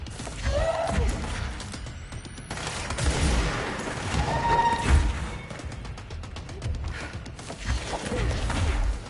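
Gunfire in the video game Control pops in clustered bursts with heavy thumps and crashing impacts, loud and irregular with little talk over it.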